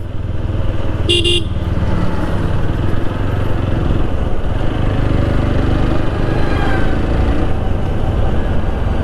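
A motorcycle engine drones loudly and continuously through traffic on the way to a showroom, with one short horn toot near the start.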